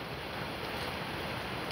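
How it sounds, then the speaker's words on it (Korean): Typhoon Haishen drives strong wind over the sea at Songjeong beach, giving a loud, steady roar of wind and blowing spray. "지금 바람에 물살이 날리지요"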